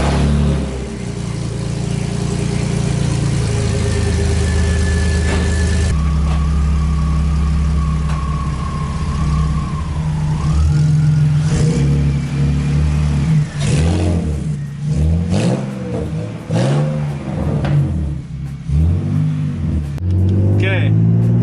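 BMW E46 engine runs steadily at idle, then revs rise and fall in repeated throttle blips, close and loud with a steady mechanical drone underneath.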